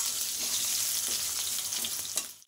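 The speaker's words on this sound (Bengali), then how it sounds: "আলুগুলো আমি একটু লাল লাল করে ভেজে নেব।" Potatoes fry in hot oil in a pan, making a steady, close sizzle with occasional stirring scrapes over about two and a half seconds, and no voices are heard.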